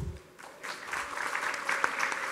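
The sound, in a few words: audience applause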